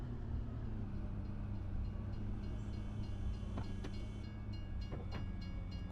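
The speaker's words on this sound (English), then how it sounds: "Oh, we've got a train." A train rolling past in the farming game Farming Simulator 25, a steady low rumble with faint wheel clicks, heard alone at a moderate distance.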